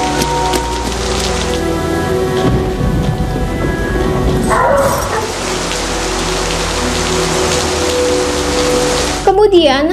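Steady rain falling outside, a dense continuous hiss with occasional low rumbles like distant thunder, under a voice speaking.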